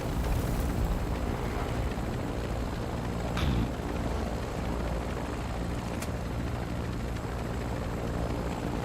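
A Chinook helicopter in the Call of Duty MW2 DMZ video game drones with a steady, loud rotor-and-engine rumble that fills the whole stretch without pause or talk.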